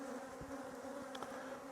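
Honey bees buzzing around a hive, a steady droning hum with a few brief louder passes, fairly faint and continuous with no voices.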